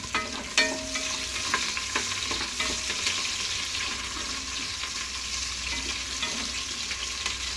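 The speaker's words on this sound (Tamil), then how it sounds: "வெங்காயம் நல்லா வதங்கிடுச்சு." Onion and curry leaves sauté with fennel in hot oil. The crackling sizzle is loud, close and continuous, with occasional stirring clicks and no voices.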